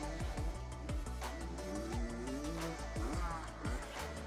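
A motorbike accelerates on a timed run, its engine note climbing through rising pitches, with repeated sharp swooping passes over a dense, steady background.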